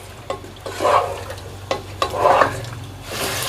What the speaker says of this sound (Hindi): अब इसमें हम सबसे पहले चिकन डालेंगे और इसको सफ़ेद होने तक भूनेंगे।